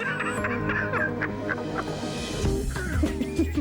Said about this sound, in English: Our turkeys.